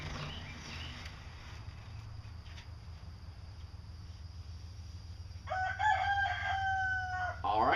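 A chicken clucks softly over a low background hum, then a rooster bursts into a loud, close crow that carries to the end.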